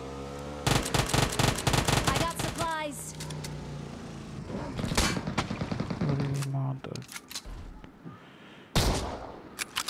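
Rapid automatic gunfire bursts in a shooter video game, loud and close, with dense strings of shots, a pause of quieter mechanical sounds, then another burst; a voice talks at moments between the volleys.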